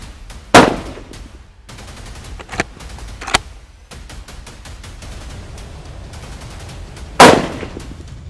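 Sharp rifle shots from a Beretta BRX1 straight-pull rifle on a shooting range: two loud, near cracks about six seconds apart, with fainter clanks and handling noises between them.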